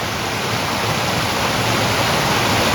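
A stream pours over a dam formed by a fallen tree in the Lake District, making a steady, dense rush of water close by with no other sounds.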